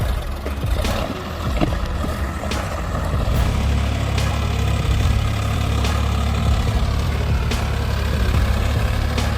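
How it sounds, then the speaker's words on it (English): A heavy off-road truck engine drones and rumbles steadily at close range on wet, slippery soil, with occasional knocks and clunks over the low, continuous roar. "The roar of the engine echoes, blending with the rhythm of the wheels grinding on the wet soil"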